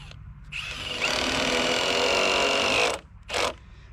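Power drill driving screws into a temporary board on a pole barn foundation build, one long loud whirring run followed by a brief second burst, close up.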